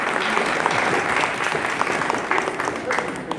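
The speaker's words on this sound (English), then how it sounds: "Give her all a round of applause" Audience at a 50th class reunion for the West Seneca class of 1969 breaks into sustained applause, dense steady clapping from many hands filling the room, loud and unbroken throughout.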